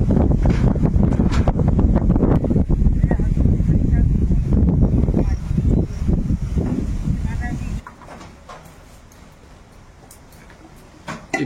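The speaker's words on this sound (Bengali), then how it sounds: "ঝোড়ো হাওয়া হচ্ছে দেখুন।" Strong stormy wind after rain rushes past the microphone outdoors, a loud, gusty roar for about eight seconds before it drops away to near quiet.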